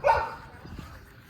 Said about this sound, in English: That's my Grand Neighbor's dog barking.